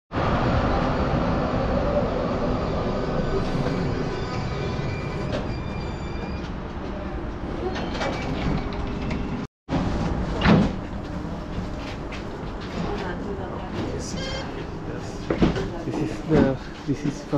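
A Budapest tram ride heard from inside the car: a steady rumbling roll with rattles and squeals on the rails, a brief dropout midway, and occasional clunks as it moves on.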